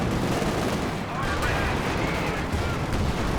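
Tank gunfire in a Company of Heroes 2 battle between Shermans and a Panzer IV, with an M180 gun firing: a dense, continuous roar of explosive blasts and rumble, loud and unbroken for the whole stretch.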